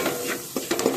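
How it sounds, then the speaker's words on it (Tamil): Masala and onions being sautéed and stirred in a pan, a brief burst of spoon scrapes and clinks over a light sizzle. "இப்படி நல்லா இதை கிண்டிக்கணும்"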